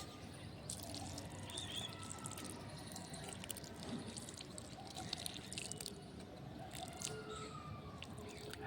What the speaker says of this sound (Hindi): तो अब इसमें धीरे धीरे करके मैं पानी दूंगी